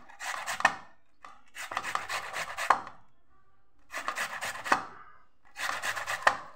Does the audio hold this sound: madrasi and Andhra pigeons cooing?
no